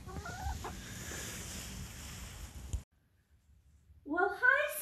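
Chickens cluck and murmur in a coop, fairly close, a burst of clucking following a brief quiet stretch, with a low background murmur earlier on.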